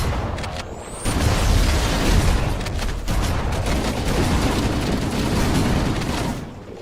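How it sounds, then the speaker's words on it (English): Grenade explosions in Halo CE on Legendary, a sustained barrage of overlapping booms and crackling blasts, loud and dense with no clear pauses. "Keep throwing nades."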